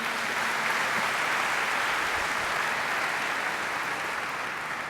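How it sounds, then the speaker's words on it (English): Sustained applause from an audience at a public health society's annual meeting opening keynote and awards program in New Orleans, a dense, steady wash of clapping at even loudness throughout. "Can we give a round of applause"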